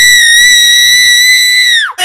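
A person screams in one long, loud, sustained high-pitched shriek lasting about two seconds that bends sharply downward and cuts off at the end.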